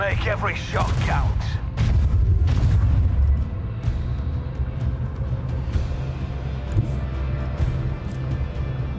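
Macro cannon shots in a Warhammer 40k space battle, deep booming blasts and low mechanical rumble that swell early then settle into a sustained roar, with speech over the opening seconds.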